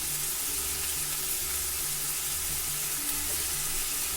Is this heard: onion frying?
yes